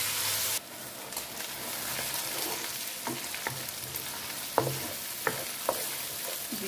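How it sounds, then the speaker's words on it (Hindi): Minced meat frying in a pan with onion and garlic, a constant crackling sizzle broken by repeated scraping and stirring knocks of a spoon, close and fairly loud. "प्याज और लहसुन के साथ कीमे की भुनाई कर लेते हैं थोड़ी देर के लिए"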